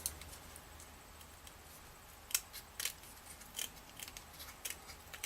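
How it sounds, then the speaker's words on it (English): Scissors snip around a half-circle shape cut out of paper for a Monster High craft, with several quick, faint, sharp clicks scattered across a quiet background and no talking. "And you're just going to cut around."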